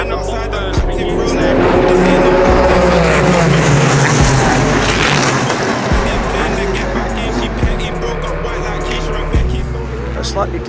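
F1 Academy race cars pulling away from a standing start in the Emirati race, a loud continuous engine roar with rising pitch and tire noise, heard close and under excited commentary.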